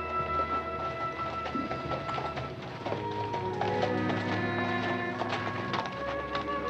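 Hooves clip-clop steadily as a horse draws closer, mixed with background music and no voices.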